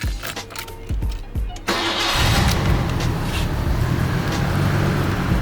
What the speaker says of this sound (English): I'm gonna see if I can go ahead and turn the car on for you guys and see if you can hear the misfire.